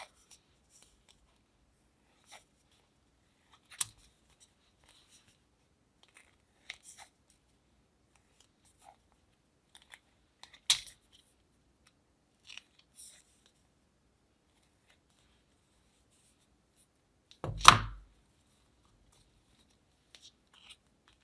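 Scissors cutting around the edge of poster board in a crafts session, sparse faint snips and rustles over near silence, with one louder crunching cut and handling sound toward the end.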